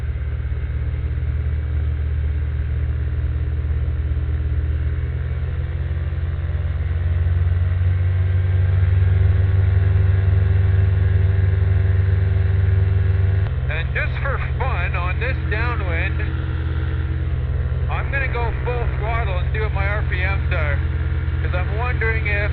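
Propeller aircraft engine held at full throttle in level flight, a loud, steady droning roar filling the cabin, with a person talking over it in the second half.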